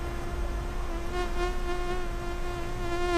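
A continuous high, thin whine of a mosquito in flight in a park, droning steadily close by with slight wavers in pitch.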